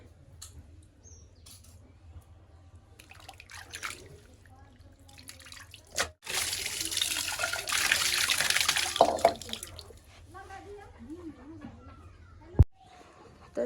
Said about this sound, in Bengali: পরিষ্কার খুব সুন্দর করে ধুয়ে নেব